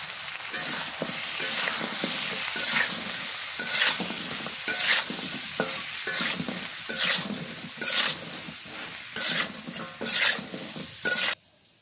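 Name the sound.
pointed gourd (potol) frying in a pan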